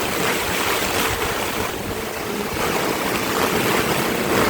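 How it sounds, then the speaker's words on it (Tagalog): Floodwater from a typhoon in Batangas rushes in a continuous broadband roar, loud and close, surging slightly but never pausing, with no talk over it. "Labot na yung baha."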